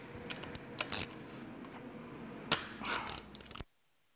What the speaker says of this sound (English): loosen the bolts up, and then lower this brush down about 1/2 inch.